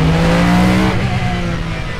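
A loud race car engine revs hard on a track, a steady high-pitched roar with a falling pitch after the first second as the car keeps driving. No speech.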